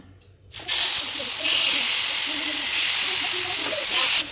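Chicken tikka hits hot oil on a tawa with a sudden loud hiss that settles into a strong, steady sizzle, close and continuous to the end.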